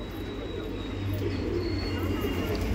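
Saharanpuri high-flyer pigeons coo softly at a bird market, their low calls rising faintly over a constant crowd hum and background market noise.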